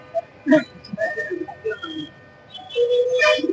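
A pigeon at a pigeon market gives soft, short coos and calls in scattered bursts, fairly close, with faint background murmur.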